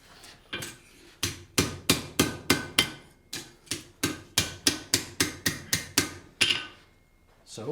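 A blacksmith's hammer strikes a heated horseshoe on an anvil in a steady run of about eighteen sharp, ringing blows, close and fairly even in rhythm, with a brief pause early on.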